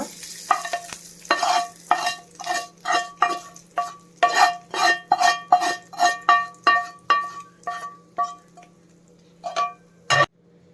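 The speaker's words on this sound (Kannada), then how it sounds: "ಒಗ್ಗರಣೆ ಎಲ್ಲ ಚಟ್ನಿ ಮೇಲೆ ಹಾಕ್ಕೊಳ್ಳೋಣ" Rapid crackling pops and sputters of hot oil tempering sizzling in bursts as it is poured over borage leaf chutney, close and loud, fading toward the end with a final sharp pop.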